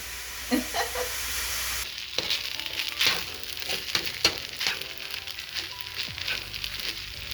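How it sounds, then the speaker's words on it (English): Chicken and shrimp sizzle loudly on a hot hibachi griddle as soy sauce is added, a dense continuous hiss with scraping and stirring clatter throughout. "Now we're gonna add a little soy sauce to it. There we go. That's the sound I need to hear."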